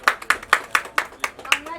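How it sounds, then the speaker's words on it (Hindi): A small group claps at a store opening: about eight evenly spaced, fairly close claps in a steady rhythm, with some faint talk in the background. "ताली बजाना सर."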